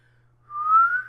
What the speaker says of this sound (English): That's my quality of whistling.